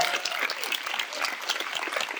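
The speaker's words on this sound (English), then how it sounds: "You give me a little round of applause" A small group claps at an induction session in Berlin, a brisk, fairly close patter of hands that stays steady and full throughout with no pauses.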